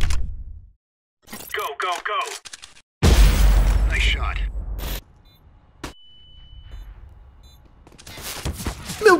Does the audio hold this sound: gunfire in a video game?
yes